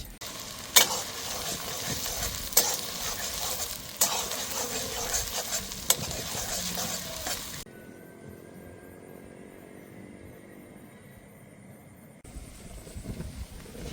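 Crushed onions with whole cloves, cardamom and cinnamon frying in oil for a village-style chicken curry, a close sizzle with clattering stirs and a few sharp knocks, then a quieter hissing stretch with a low background hum.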